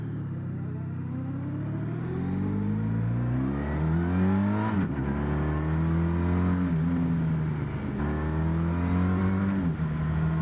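A Honda VFR 1200 Crosstourer V4 motorcycle engine hums steadily while cruising in sixth gear at about 3,800 rpm, its smooth rumble rising and dipping gently with slight load changes, along with wind noise.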